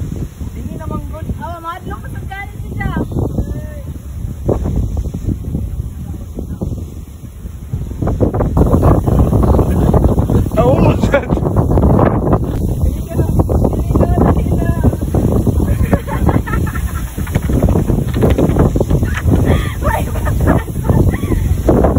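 Strong wind roars and buffets the microphone throughout on Corregidor Island, growing harsher partway through, with rustling of a coconut tree and a voice speaking underneath.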